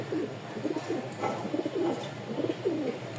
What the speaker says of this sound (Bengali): এখানে 2 পিস কবুতর আছে